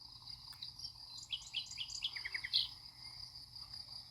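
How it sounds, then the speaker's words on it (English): Outdoor nature ambience with a constant insect trill and a quick run of bright bird chirps in the middle, the calls clear over a quiet, steady background. "Do you hear the birds? Do you hear nature?"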